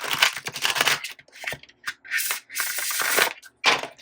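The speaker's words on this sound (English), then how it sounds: "Let's get one more good shuffle in here." A deck of tarot cards is shuffled in several quick riffling bursts separated by brief pauses, crisp and close with no voice.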